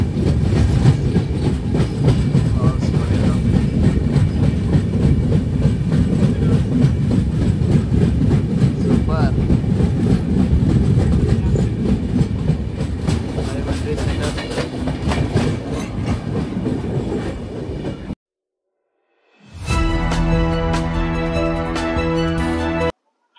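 A passenger train runs on rails on the Dhone to Visakhapatnam route, a loud, continuous rumble with clickety-clack rhythm that drops out abruptly near the end before a brief different burst returns.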